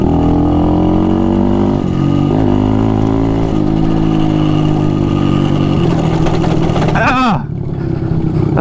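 Motorbike engine droning and revving on a road, a loud close buzz rising and falling in pitch before a sharp swell and drop near the end, with voices talking over it.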